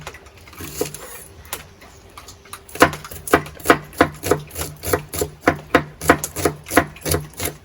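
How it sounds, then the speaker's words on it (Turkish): A knife chops onions rapidly on a cutting board, a few scattered cuts then a quick, steady run of sharp, close taps. "Soğanlarımızı doğrayacağız."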